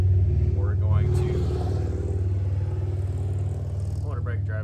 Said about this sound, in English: motorbike driving by